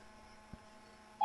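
A phone's voice assistant gives a short, bright electronic activation tone at the very end, after a quiet stretch broken only by a low hum and one soft thump.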